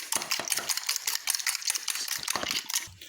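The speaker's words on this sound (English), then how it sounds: "I'm going to be whisking my egg together. Whisk it very well." An egg being whisked in a bowl for a baked fish roll, rapid irregular clinking and sloshing strokes of the whisk against the bowl, close and fairly loud, with no talking.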